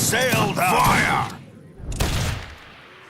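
Musket volleys crack out in Age of Empires 3 (Wars of Liberty mod), with a loud burst near the end, following a voiced in-game command shouted over the battle.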